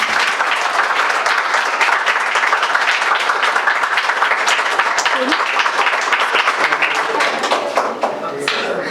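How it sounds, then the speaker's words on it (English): A seminar audience on human rights in Pakistan gives a big round of applause, dense and steady clapping filling the room at close range for the whole stretch, easing slightly at the end. "Give a big round of applause to Naqvi Saab."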